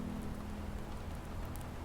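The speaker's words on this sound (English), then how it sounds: "The rain tapped a gentle rhythm on the glass above them" Rain patters on window glass in a steady, dense hiss of soft drops, even and unbroken for the whole short stretch, with no voices.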